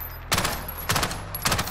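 Gunfire in a shooter video game, three sharp cracking shots spaced about half a second apart over a steady background of game ambience.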